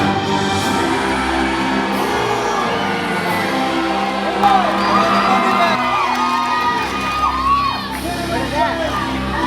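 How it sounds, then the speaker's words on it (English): A crowd cheers, whoops and yells loudly and steadily at a Medieval Times tournament show, a dense roar of many voices with shouts rising above it, and some spoken voices mixed in. "hear your people cheer"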